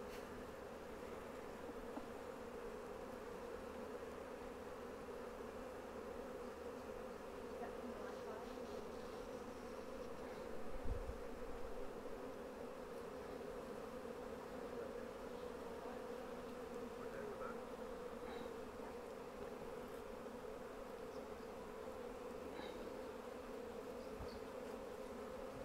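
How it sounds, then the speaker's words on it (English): Honeybees hum steadily around an open Flow Hive during a brood inspection, a dense, continuous drone of many insects close by, quiet overall with a brief low thump midway and no talking. "So the bees are getting slightly more agitated now."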